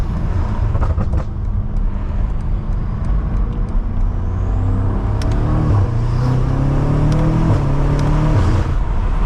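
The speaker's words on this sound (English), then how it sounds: "Now we got the G80 behind us, boys. Just listen to those pops." A BMW G80 M3 following behind on a backroad rumbles and revs loudly, its exhaust crackling with sharp pops over a steady engine drone and road roar, heard from inside another car.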